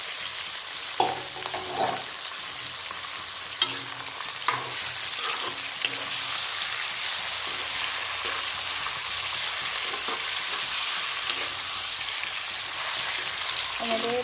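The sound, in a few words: mutton frying in a pan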